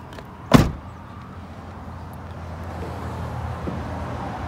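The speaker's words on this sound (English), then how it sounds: "Here we have some power running boards if we open the door" A single sharp thump of a 2022 Ford Transit 150 van door opening, followed by a steady low hum from the power running boards' motor deploying, with faint road noise in the background.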